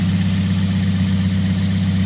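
A 1.5-liter Toyota Yaris engine idles smoothly and steadily, a close, even low hum with a constant tone and no revving, heard alone.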